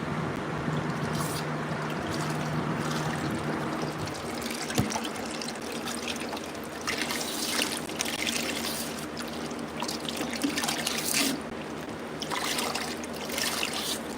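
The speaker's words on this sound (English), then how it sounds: "I'm going to take my sponge, my hose, and give this a good rinse in this bucket real quick." Water from a hose runs steadily into a bucket as a tiling sponge is rinsed after grout sealing, a continuous close splashing and trickling with no talking.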